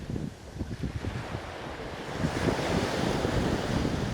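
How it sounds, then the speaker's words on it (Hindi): Sea waves rolling in at a resort beach in Antalya, Turkey in July, a broad continuous wash of surf with wind rumble, building louder in the second half, no voices. "समंदर की वेव्स।"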